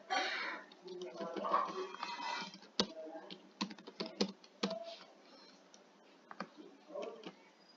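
Fingers tap out bursts of keystrokes on a computer keyboard, close and fairly quiet, with irregular clicks and pauses between short runs.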